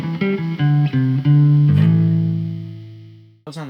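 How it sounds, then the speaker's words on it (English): A Fender Player Stratocaster through a Tubescreamer overdrive pedal plays a few short notes, then a long sustained note that slowly fades before a final strum. "If we add a Tubescreamer, here's what we get."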